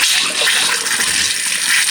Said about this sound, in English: Ooh, the water came out black